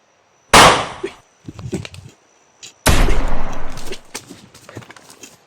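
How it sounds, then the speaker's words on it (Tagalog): Sharp video game gunshot cracks ring out, a single loud blast followed by a longer burst of rapid shots and scattered pops, close and punchy, with no talking. "May putok mga tol."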